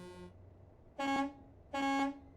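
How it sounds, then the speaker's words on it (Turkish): Two long blasts from the horns of a Volvo FH16 truck in a driving video game set on Peru's death roads, each note about half a second and loud, separated by a brief pause after a fading tone. "Kornalarımıza bakalım."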